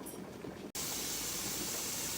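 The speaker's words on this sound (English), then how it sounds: "we've had this steady stream of steam" A pressure canner vents a steady stream of steam while canning pork butt, giving a loud, even hiss. A brief dropout comes first, and the hiss then runs unbroken with no talk.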